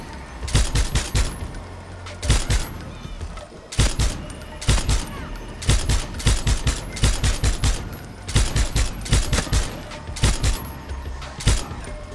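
Machine guns firing from a small island in the video game Far Cry 6, with repeated loud bursts of rapid gunfire separated by short pauses and heavy low thumps throughout.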